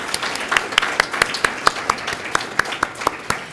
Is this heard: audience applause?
yes